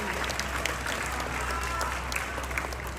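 Thunderous applause rises from an audience at a talent development council event in Johor, continuous dense clapping heard through a low hum of the hall's sound system.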